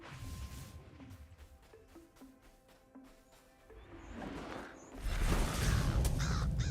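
Birds caw in the fantasy game Ashes of Creation, a series of harsh crow-like calls at a fairly close distance, followed by a loud rushing whoosh and crash of game noise.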